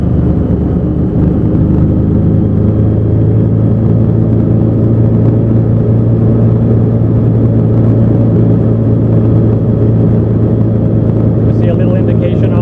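A Mini-500 helicopter engine runs with its clutch fully engaged, a loud, steady, close droning rumble with a constant low hum that holds evenly throughout without pause.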